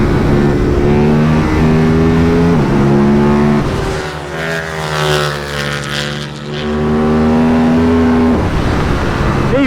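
A 2024 KTM RC 8C race motorcycle, about 142 kg and 135 bhp, screams past on a racetrack, its engine note rising and falling through gear changes, loud and close throughout.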